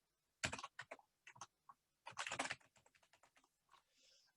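Close, crisp keystrokes on a computer keyboard come in quick clustered bursts and scattered single taps while a sign-in password is typed, with no talk.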